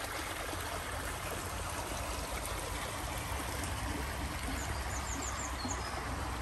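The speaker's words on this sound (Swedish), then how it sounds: "Detta är en bäck som rinner genom Vebröd." A brook flows through the village of Vebröd, a steady close babbling and trickling of water that continues without break, with faint bird chirps high above.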